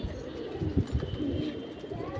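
Pigeons perched on a rooftop coo in soft, low, rolling bursts, close by, over a brief steady background.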